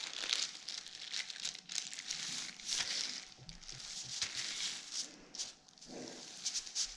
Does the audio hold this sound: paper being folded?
yes